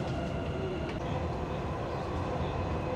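A Dubai Metro train running steadily, a continuous rumble of wheels on rails with a faint high whine, no talking.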